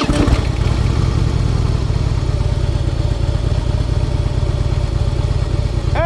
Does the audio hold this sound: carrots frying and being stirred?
no